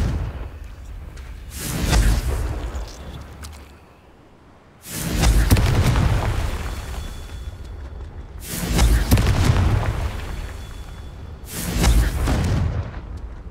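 Confringo blasting spells explode in Hogwarts Legacy: four heavy booming blasts with whooshing tails, spaced a couple of seconds apart, loud and close with no talk.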